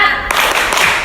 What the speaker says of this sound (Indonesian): Kita akan melakukan tepuk semangat bersama agar memulai pembelajaran dengan semangat.